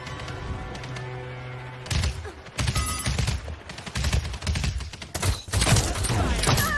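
Bursts of video game gunfire crack in rapid clusters, loud and close, with repeated volleys over roughly five seconds following a quieter lead-in of ambient hum.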